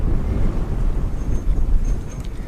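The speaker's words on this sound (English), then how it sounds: "hopefully you're not hearing too much of that wind right now" Steady low rumbling wind buffeting a microphone outdoors at a dinosaur dig site, continuous and loud throughout, with no voices.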